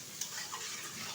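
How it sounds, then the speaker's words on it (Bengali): Small potato pieces stirred in a pan with spiced onions, giving a faint, soft scraping and gentle sizzle of frying with a light tap near the start. "আলুটা আবারও বেশ কিছুক্ষণ নেড়ে চেড়ে নেব।"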